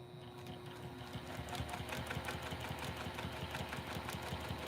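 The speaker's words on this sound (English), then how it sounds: "So I'm going to just throw those down onto my sewing machine." A domestic sewing machine stitches fabric at a 5/8 seam allowance, with rapid, even mechanical needle clatter running continuously and fairly quietly throughout, no talk over it.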